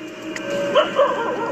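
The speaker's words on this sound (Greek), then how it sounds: "Και ο σκύλος κάτι βλέπει, το βλέπετε ότι είναι ανήσυχος" A restless dog gives a short burst of close barks and whimpering yips, loud and near for under two seconds.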